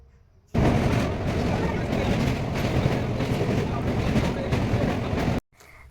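Riding a train out of Deulti station: a loud, steady rumble of the moving carriage cuts in abruptly and roars on evenly for about five seconds before stopping short.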